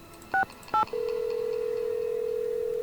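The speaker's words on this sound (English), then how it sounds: "Now call Bess and George." In a Nancy Drew video game, two short telephone keypad tones are heard as a number is dialed. A steady, clean ringing tone then holds alone until the end.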